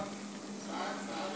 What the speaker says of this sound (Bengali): এইভাবে ভালো করে নাড়াচাড়া দিব